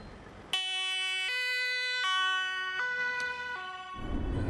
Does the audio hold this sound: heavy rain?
no